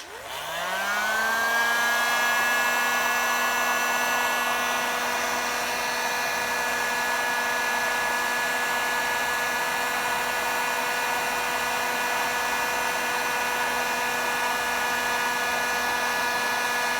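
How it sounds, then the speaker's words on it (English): A heat gun runs steadily for flash curing powder coat on plastic, a loud continuous whirring hiss with a rising whine at start-up that then holds a constant tone throughout. "I'm gonna flash cure it with my heat gun"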